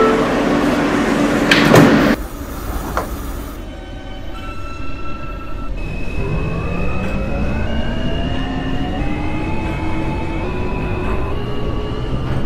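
An R160A subway train on the Brooklyn-bound L line in the OpenBVE simulator: a door chime, then the sliding doors thump shut, followed by the motors spinning up in a rising electric whine as the train pulls away.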